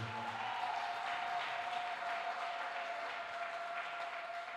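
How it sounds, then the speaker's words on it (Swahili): A church congregation claps together in a warm, steady round of applause during a worship service, the sound even and continuous throughout, with no voices over it. "tumpigie tena Yesu makofi mazuri"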